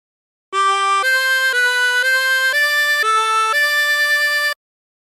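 A harmonica plays the Aura Lee phrase without bends, a run of about seven clean sustained notes stepping up and down, loud and close, alone for about four seconds.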